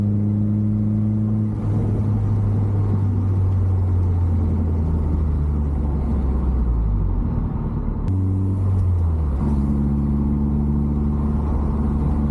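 A manual car driven fast along a backroad, its engine droning steadily and dropping in pitch at two gear changes, with a constant interior rumble and no voices.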